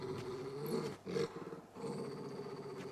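A dog in the Final Fantasy XVI video game lets out low, rumbling growls, sustained with a brief break, close and fairly loud against quiet game ambience.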